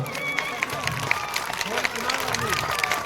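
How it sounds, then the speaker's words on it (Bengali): A crowd claps at a sports felicitation ceremony, a steady spread of handclaps with background chatter and a speaking voice over it. "সবাই একটু হাত তালি দাও তোলে।"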